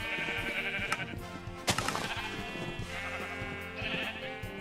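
Sheep in the Minecraft video game bleat repeatedly over steady background game music, with several short cries spaced across the clip at moderate loudness.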